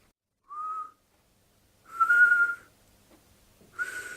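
Air whistles through a gap in the teeth in three short, clear high-pitched tones, separated by pauses, close and alone in a quiet room.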